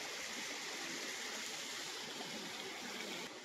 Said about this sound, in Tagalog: Ang ganda po ng sakop na ilog nitong property.